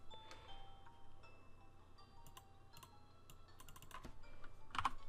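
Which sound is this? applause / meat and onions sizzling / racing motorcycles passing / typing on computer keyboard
typing on computer keyboard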